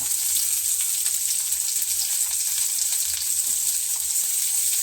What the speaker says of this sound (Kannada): ಹಾಕಿದ್ದೀನಿ ಸ್ವಲ್ಪ ಫ್ರೈ ಆಗಲಿ